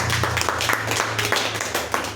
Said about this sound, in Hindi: एक बार जोरदार ताली लगना चाहिए